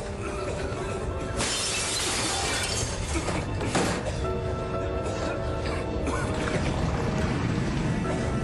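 Window glass shattering in a dramatic scene, a loud, bright crash and scatter of breaking glass that fills several seconds with dense crackling debris, brief louder impacts standing out from the sustained noise.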